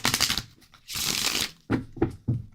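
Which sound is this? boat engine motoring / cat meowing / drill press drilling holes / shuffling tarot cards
shuffling tarot cards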